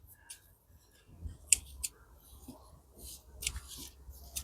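Garden scissors snipping pea shoots off sugar snap pea plants, several sharp crisp cuts at irregular intervals, close and quiet with faint rustling of foliage between.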